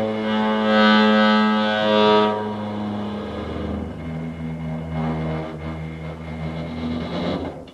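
A kitchen oven picked up by a contact microphone run through a DI box, giving loud sustained tonal hums with strong harmonics that shift pitch partway through, steady and droning with no talking.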